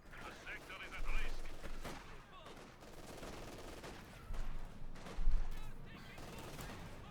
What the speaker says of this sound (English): Machine guns blazing away at the conscripts.